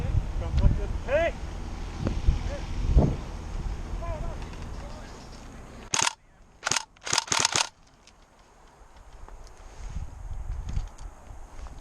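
Tokyo Marui SCAR L airsoft rifle fired outdoors in an airsoft game, a cluster of sharp close pops in quick bursts after distant chatter and wind, followed by quieter ambience.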